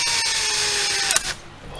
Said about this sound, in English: I'm going to drill some holes in the bottom of the screen